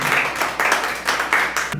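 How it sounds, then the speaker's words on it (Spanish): A church congregation breaks into applause, a dense wash of many hands clapping in steady bursts that swell and ease roughly every half second, filling the room with no talking over it. "¿Por qué no das un aplauso a Dios?"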